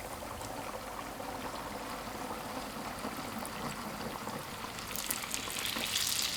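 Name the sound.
youtiao dough sticks deep-frying in hot oil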